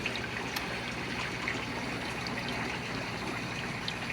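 Water flows steadily in a greenhouse, pushed by air pressure through an air stone from tanks into a barrel, a faint continuous trickle and gush over a low hum.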